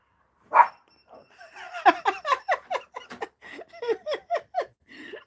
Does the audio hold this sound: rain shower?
no